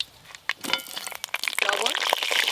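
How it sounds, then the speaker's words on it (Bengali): Potatoes drop into hot mustard oil in a clay pot, and a quiet start gives way to a rising, crackling sizzle that grows loud and steady, with a voice talking over it. "সর্ষের তেল, তেল খুব ভালো করে গরম হয়ে গেছে, এবার আলুগুলো ভেজে নেব।"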